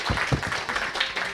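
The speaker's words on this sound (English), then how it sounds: "can we give applause to Dr." Brief applause from an in-person audience at a soil health and carbon sequestration session, a dense patter of many hands clapping at moderate level, steady and short.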